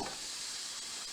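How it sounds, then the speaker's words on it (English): Diced sausage sizzling in a frying pan gives a steady, faint, hissing crackle with no talk over it. "Got a little sizzle"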